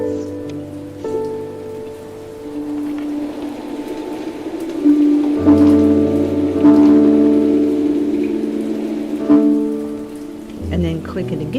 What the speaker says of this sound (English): You click on that and you want it to rain for the rain sounds.